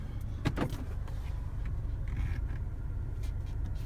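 Electric sunroof on a 2015 Cadillac ATS AWD opening, a soft steady motor whir with a few small clicks and scrapes near the start, quiet and close inside the cabin.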